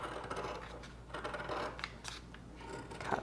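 Scissors snip through fleece fabric in a few short, soft cuts spread over a few seconds, fairly quiet against a faint room hiss, with no one talking.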